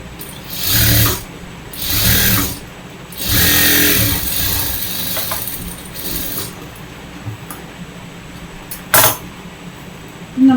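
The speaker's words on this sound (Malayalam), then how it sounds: "ഇതുപോലെ മറ്റേ സൈഡിലും ഇങ്ങനെ സ്റ്റിച്ച് കൊടുക്കുക." A sewing machine stitching hijab fabric, running in several short whirring bursts with pauses between them, then a few faint clicks near the end.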